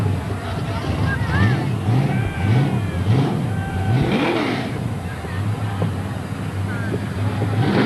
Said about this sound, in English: Here's the official pace car to the Brickyard